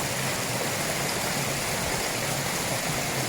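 A waterfall deep in remote rocky wilderness roars as a steady, dense broadband wash of falling water, loud and unbroken throughout, with no voices.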